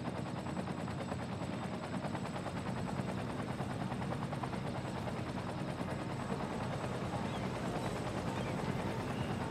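Helicopters in the city-building game Cities: Skylines fly water runs to a wildfire, a continuous rapid rotor chop under a dense, even mechanical drone, steady and unbroken throughout.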